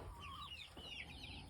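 Farm chickens cluck and chatter continuously at feeding time while pecking at chicken feed, several birds calling over one another close by.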